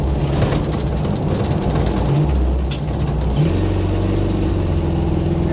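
A 1977 Chevy Monte Carlo engine, running again after sitting for many years with its timing off, idles roughly and rises briefly under a little gas before settling into a steady, uneven hum.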